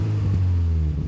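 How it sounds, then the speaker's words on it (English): Toyota 2020 86 GT engine idling and revving through a TRD exhaust, a steady deep low rumble with slight swells, close and loud, no talking. "That TRD exhaust does sound pretty good"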